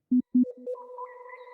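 A reverb effect in Cubase set to a very high shimmer: two short low tones, then rising pitched notes that hold and ring out into a sustained, bright, layered tail, alone with no talk.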